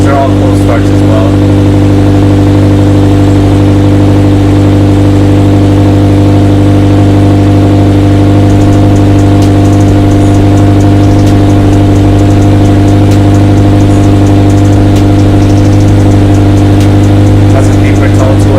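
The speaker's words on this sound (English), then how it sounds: "That's a deeper tone to it than the stock exhaust." A Toyota FR-S/Subaru BRZ with an aftermarket GReddy SP Elite exhaust idles steadily with a deep, droning exhaust tone, loud and close, with little change in pitch throughout.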